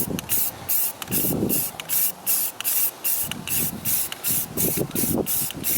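Short bursts of aerosol primer spray hissing in quick repeated pulses onto a car hood, close and loud, with voices talking intermittently between and under the sprays.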